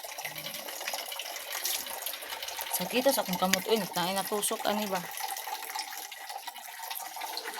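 Water running from a tap into a basin at home, a steady trickling wash with a voice talking over it in the middle.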